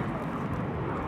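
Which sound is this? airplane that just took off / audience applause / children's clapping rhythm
airplane that just took off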